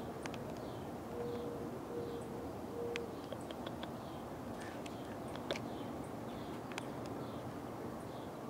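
Faint birdsong from several birds around a backyard vegetable garden with a seed feeder: scattered short chirps and a few soft repeated hoot-like calls over a quiet outdoor background, with no talking.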